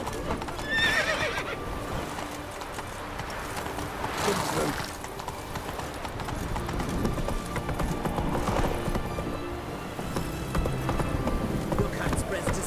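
In a video game, a horse gallops with rapid clip-clop hoofbeats and lets out whinnies, loud and close for the whole stretch, while voices shout over the running.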